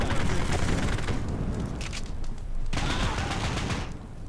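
Sustained automatic assault rifle fire in the video game Postal Redux, loud and continuous bursts with a short lull midway before the shooting resumes.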